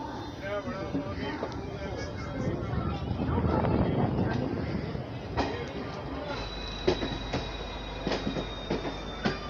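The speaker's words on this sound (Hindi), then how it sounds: "तय समय से अपने ट्रेन का डिपार्चर हो चुका है पुणे जंक्शन से।" The Chandigarh Karnataka Sampark Kranti Express rolling on after leaving Pune Junction, with a steady rumble of carriages, rhythmic wheel clacks and a faint squeal, heard from on board with voices in the background.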